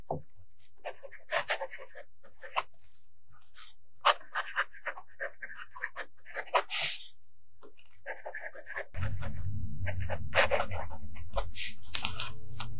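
A fountain pen lays Organic Studios Walden Pond blue ink onto paper in short, scratchy strokes, intermittent and close, with quiet pauses between. A low steady hum joins in partway through.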